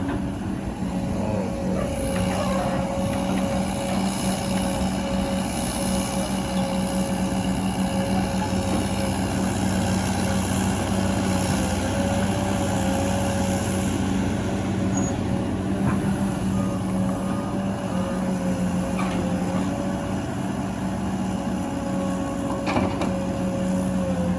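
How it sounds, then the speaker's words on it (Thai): A loud, steady engine roar with an open, unmuffled exhaust, droning continuously with a strong low hum and occasional faint clicks. "ที่เสียงมันดังก็เพราะว่าไม่มีท่อพักครับปล่อยโล่งเลยครับผมเนาะ"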